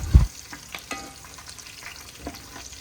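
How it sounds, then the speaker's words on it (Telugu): Onion, green chilies, curry leaves and tempering spices fry in hot oil for a fish curry, giving a soft continuous sizzle with a loud clatter at the start and light stirring scrapes throughout. "ఆయిల్ వేడి అవ్వగానే పోపు దినుసులు, 4 నుంచి 5 పచ్చిమిర్చి, కొంచెం కరివేపాకు, కొంచెం ఉల్లిగడ్డ వేసి కాసేపు కలుపుతూ మగ్గనివ్వాలి."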